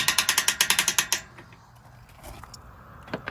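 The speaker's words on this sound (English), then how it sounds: "move this so that now your ratchet can go back and loosen it up" A ratchet strap on a boat trailer gives a quick run of about a dozen rapid, close mechanical clicks over roughly a second, followed by quieter rustling and faint metallic handling.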